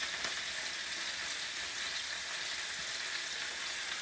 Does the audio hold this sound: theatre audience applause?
no